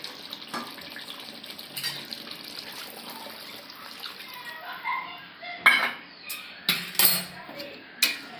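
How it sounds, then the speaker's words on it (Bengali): Water poured into a pot of thin, onion- and garlic-free mutton curry, a soft wash of liquid with a few sharp clinks of the pot and utensils toward the end, close and fairly quiet. "এবার জল দেব।"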